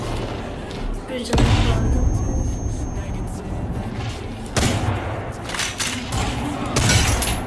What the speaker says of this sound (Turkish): Keskin nişancıyla da vuralım.